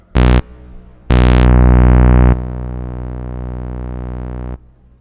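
Korg EMX1 synth in Synth 2 mode: a short loud burst, then a longer sustained buzzy tone that drops in brightness and holds steadily before cutting off, close and loud.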